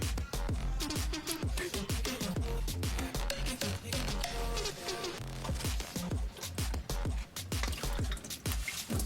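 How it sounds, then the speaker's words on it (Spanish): Gear oil drains from the rear differential of a Honda Ridgeline or Pilot with VTM-4 all-wheel drive into a glass. It makes a continuous dense trickling and splashing, steady and close throughout. "vamos a tratar de llenar este vaso para ver cómo sale el aceite"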